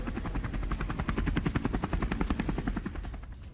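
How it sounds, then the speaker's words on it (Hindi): A Pakistani military helicopter over snowy Waziristan, its rotor beating in a fast, steady thump that stays loud and close throughout. "ये देखिए हेलीकॉप्टर जो आपको दिख रहा है ये पाकिस्तान का है।"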